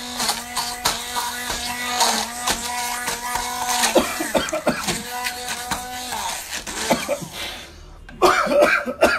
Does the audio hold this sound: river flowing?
no